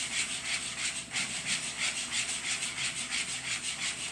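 A whisk stirs a mixture slowly in a bowl, giving a close, rhythmic scraping swish with steady back-and-forth strokes at an even pace, alone without talk.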